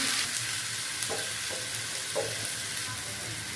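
Lentil fritters frying in hot oil, giving a steady bright close sizzle with a few soft stirring touches, no voices.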